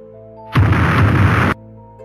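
A bomb goes off in the Roblox Brookhaven game, a loud sudden roaring blast that holds for about a second and then cuts off abruptly, over faint background music.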